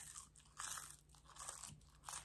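Crispy cooked tofu is chewed close to the mouth, soft crunching bites in several uneven bursts, quiet and intimate with no voices.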